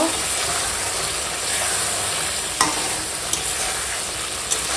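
Curry stirred in a pan after a splash of raw mustard oil, with steady close sizzling and soft scraping throughout and a few brief clicks of the spoon against the pan.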